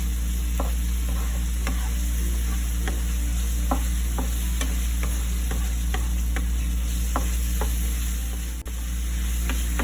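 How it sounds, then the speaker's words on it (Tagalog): Aromatics sautéing in a pan for Thai bagoong fried rice, a steady sizzle under a low hum, with a spatula scraping and tapping the pan every second or so, close up and no talk. "let's saute this with our aromatics"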